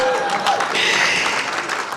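An audience at an awards speech event in Chicago cheers and applauds, a steady broadband wash of clapping and voices that fills the whole stretch at an even level, with a brief whistle-like tone near the start.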